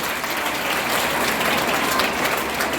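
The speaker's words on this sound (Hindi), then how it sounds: "आप मेरे तरफ से इस महान हस्ती के लिए एक बार जोरदार ताली बजाएंगे।" An audience at an awards ceremony in a banquet hall gives steady, dense applause in honour of a distinguished guest, loud and unbroken throughout.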